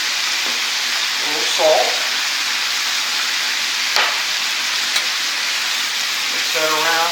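Venison sears in a hot pan with a loud, steady broadband sizzle that runs throughout, broken by a few brief clinks and short bits of nearby speech.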